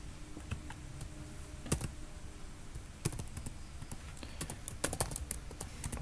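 Computer keyboard being typed on while writing code, soft irregular key clicks with occasional louder taps, close and quiet, no voice.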